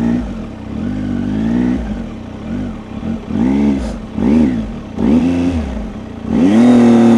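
Motorcycle ridden at walking pace, engine idling with repeated short throttle blips that rise and fall in pitch, close and fairly loud, with no talking.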